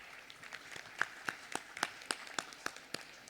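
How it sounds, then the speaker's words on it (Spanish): Scattered, fairly faint claps from an audience welcoming a speaker, coming as a thin, evenly spaced series of individual hand claps rather than a full ovation. "Un fuerte aplauso, por favor, para Isabel Aburto."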